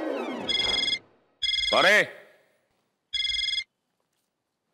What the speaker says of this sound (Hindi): आपका ही फोन बज रहा है।